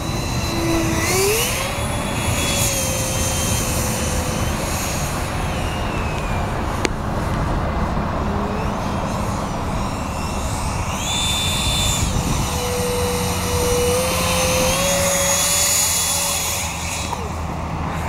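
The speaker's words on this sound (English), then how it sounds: "Thrust vectoring system is on." Homemade model aircraft with a thrust vectoring system flying, a continuous whining motor drone that rises and falls in pitch as it passes, heard steadily throughout.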